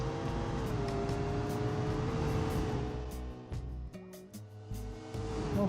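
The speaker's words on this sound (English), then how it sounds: "twin turbo V12" Video game car with a twin-turbo V12 accelerating on a desert highway, a loud sustained engine drone that climbs in pitch, dips briefly with gear shifts, then keeps pulling.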